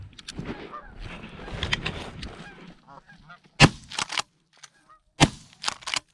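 Geese honking during a goose hunt in North Dakota, a dense chorus of calls at first, then loud close honks and sharp bursts that come and go in the last few seconds, with no talk.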